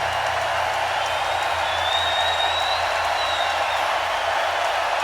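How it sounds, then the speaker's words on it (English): A concert crowd at a New Year's Eve show roars in a steady, distant wall of cheering and applause that holds unbroken throughout, with faint whoops rising now and then. "Listen to them go. Listen to that crowd."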